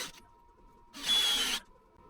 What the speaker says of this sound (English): and we're gonna drill some holes.